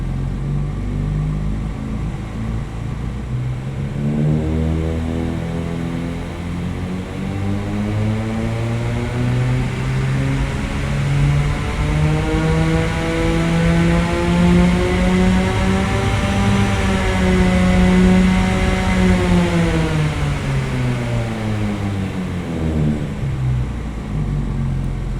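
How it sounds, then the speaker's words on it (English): Simulated car engine in Krotos Studio Pro, driven by a speed dial, starting from a low idle and smoothly climbing through the revs to a high whine before easing back down, loud and continuous with no speech. "that engine sounds really authentic from this idling position. It really smoothly transitions its way up through the RPMs"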